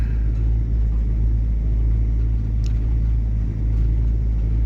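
A car drives home from village fields at sunset, heard from inside as a steady, close, low engine rumble and road drone that continues unchanged with no voices.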